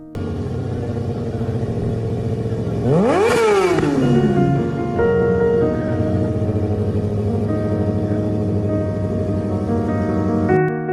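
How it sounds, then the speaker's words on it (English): A powerful superbike engine revs hard, climbing sharply in pitch around the three-second mark, then settles back into a loud, steady rumble close by. "he got to rev the engine on this superbike"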